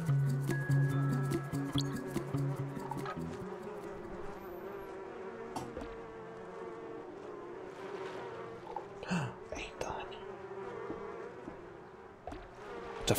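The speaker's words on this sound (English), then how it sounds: "Sometimes you get hunted by bees." Buzzing bees chase the player in the video game Donut County, a dense insect drone running steadily through the whole stretch over layered game music and effects.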